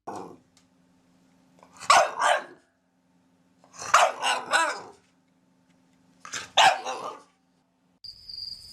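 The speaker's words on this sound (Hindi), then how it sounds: "शायद बहुत दिनों बाद किसी इंसान को इधर आते हुए उन्होंने देखा था, इसलिए कूं कूं कर उठे।" Two dogs in a dark, deserted spot bark and whine at someone approaching, with three separate bursts of close barking spaced a couple of seconds apart against near silence, no talking.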